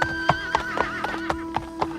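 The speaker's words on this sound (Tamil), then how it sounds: "இரு குதிரை வருகிற சத்தம் போல் கேட்கிறதே" A horse whinnies in a long high call over steady rhythmic hoofbeats drawing near, used as a sound effect in a Tamil historical audiobook; the hooves clop evenly about four times a second.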